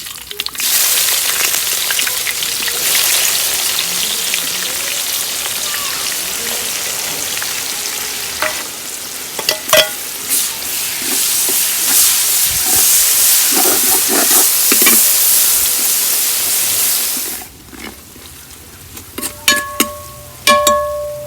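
Onions fry in hot oil for a green biryani masala, a loud continuous sizzle that fades after about seventeen seconds into sparse stirring clinks and scrapes.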